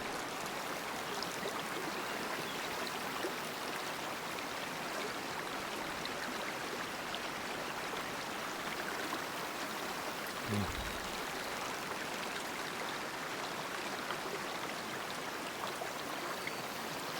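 Steady, soft rushing of river water in the hunting game Way of the Hunter, a continuous even flow at low level throughout with no talk over it.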